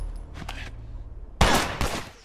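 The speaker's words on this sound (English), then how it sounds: "I just shot him twice" Gunfire in The Last of Us Remastered comes as two loud, sharp shots about a second apart with a short echoing tail, preceded by softer thuds and movement sounds.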